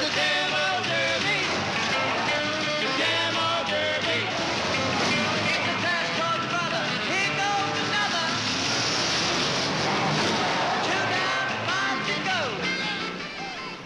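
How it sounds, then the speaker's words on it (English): Demolition derby cars from a 1964 black-and-white New England featurette grind, crash and rumble continuously at close range, a dense loud roar with no talk over it. "It's a demo derby."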